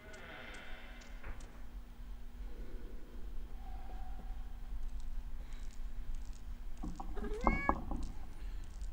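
A single cat meow in the video game Fatal Frame: Mask of the Lunar Eclipse sounds near the end over a low steady hum and faint background noise, with a few soft tones earlier.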